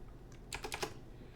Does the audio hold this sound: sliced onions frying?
no